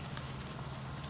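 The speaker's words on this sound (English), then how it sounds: "There's the quarter horse." A quarter horse's hooves clip-clop at a walk or jog on the ground, a steady soft patter under a low constant hum.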